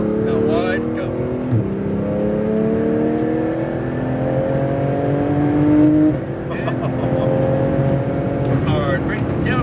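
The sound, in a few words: sports car accelerating on a track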